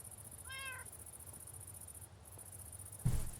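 A steady high-pitched cricket chirp runs continuously through the ambience of a Minecraft island, with a brief cat meow early on and a thump near the end.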